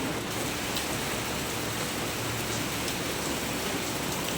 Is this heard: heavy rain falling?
yes